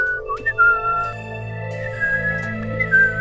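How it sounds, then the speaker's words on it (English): Faint whistled chirping plays in an audio drama, a few short rising and falling tones over a sustained low hum, near and clear with no talk. "The blacksmith stops when he hears a faint whistling chirping from behind his weapon's tent."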